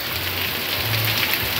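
Heavy rain pouring in Acaraú, a dense, steady hiss of drops hitting surfaces, loud and close, with a faint low rumble underneath and no talk.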